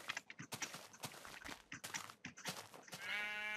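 Sheep in the game Minecraft give a short wavering bleat near the end, after a run of scattered clicks and soft steps, moderately close and alone.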